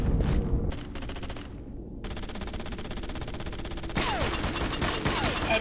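Rapid, loud bursts of Spaz gunfire ring out in the shooter game Conduit 2, dense overlapping shots with game effects continuing steadily throughout, no voices.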